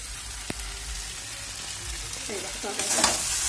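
Water is poured into a sizzling pan of spiced curry with fried papaya, potato and tomato. A steady close sizzle swells into a louder, hissing burst near the end.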